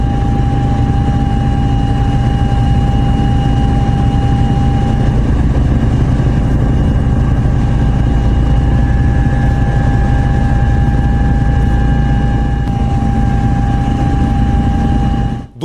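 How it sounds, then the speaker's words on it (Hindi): Helicopter carrying India's Home Minister arriving at Hingalganj, West Bengal, during an election campaign, a loud steady engine drone with low rumbling tones holding constant throughout, close by and uninterrupted. "गृह मंत्री अमित शाह आज हेलीकॉप्टर से पहुंचे।"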